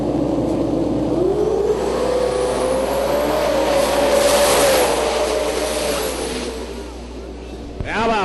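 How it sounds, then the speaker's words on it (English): Turbocharged drag race cars, a Mustang and a 1971 Dart with a 353 cubic inch engine, roar down the strip at a drag racing event. The loud engine drone climbs in pitch and then fades, with a voice faintly audible in the crowd noise. "Battle of the turbo cars going at it."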